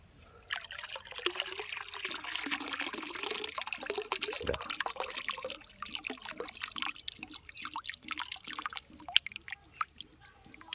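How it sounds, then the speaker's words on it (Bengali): Water from a catfish fry tank pours and trickles out steadily for several seconds, a continuous splashing stream with no voices over it. "আমি ঢেলে দিচ্ছি দেখো জলটা কমিয়ে দিই"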